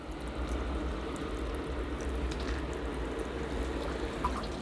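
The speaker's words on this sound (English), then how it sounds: "So giving it a good thorough watering." A thorough watering of a tropical bonsai, with water streaming onto the soil and running off a table, a steady close pour lasting several seconds without pause.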